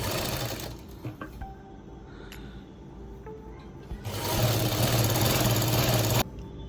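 A sewing machine stitches along the folded edge of a cloth bag in short whirring runs, stopping and starting, then settles into one louder steady burst of stitching near the end. It is close and heard alone.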